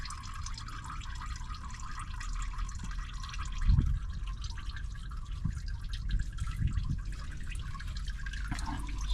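Engine oil from a Toyota Tundra drains into a container in a driveway, a faint steady trickle with occasional drips and gurgles against low background hum.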